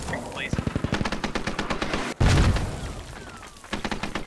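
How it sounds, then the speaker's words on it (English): Mortar rounds landing in the video game Squad, heard as a burst of rapid sharp reports followed by a heavy booming impact and a rumbling tail, with more rapid fire after. "And mortars inbound. These are landing in the courtyard this time."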